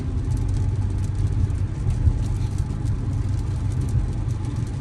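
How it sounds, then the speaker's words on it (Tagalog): Rush hour traffic on a street in the east side of Regina, Canada: a constant dense rumble of many cars rolling past nearby, with steady engine and tyre noise and no voices. "Daming sasakyan."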